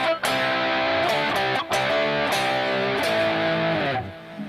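Overdriven, distorted electric guitar plays sustained chords and double stops in a rock rhythm style, loud and continuous with a couple of brief gaps between strums, no talking.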